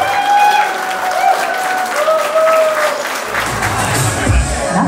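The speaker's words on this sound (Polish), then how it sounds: "Oczywiście wielkie, wielkie brawa do gościa" Wedding guests applaud in a dense, steady wash of clapping that carries on through the whole stretch, with sustained tonal sounds running beneath it.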